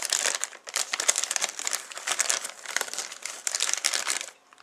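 Plastic wrap around a Hallmark Keepsake Star Trek Klingon Battle Cruiser ornament crinkles steadily up close as it is handled, loud and continuous with small pauses.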